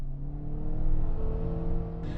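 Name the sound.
Volkswagen Jetta TDI diesel car driving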